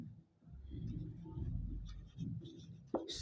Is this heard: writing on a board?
yes